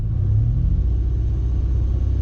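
A car engine, tuned with MegaSquirt, holds at slightly raised throttle as a steady, loud, low rumble with no distinct rise in revs.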